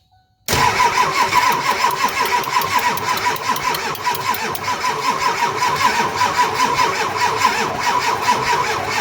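An engine cranks and catches after being hooked to a jump pack in a shop, then runs loudly and steadily close by for several seconds without talk.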